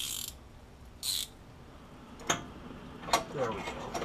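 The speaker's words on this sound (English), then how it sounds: "Ratcheting wrench" A ratcheting wrench works on the front end of a 1972 Oldsmobile Cutlass, giving short bursts of close mechanical clicking separated by pauses, with quieter shop background between them.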